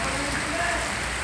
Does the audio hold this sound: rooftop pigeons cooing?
no